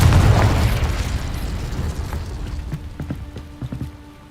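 Confringo explosive spell in Hogwarts Legacy, a loud booming blast at the start that rumbles and decays, followed by scattered crackling debris and small pops fading out.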